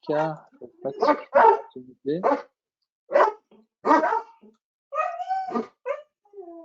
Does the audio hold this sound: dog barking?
yes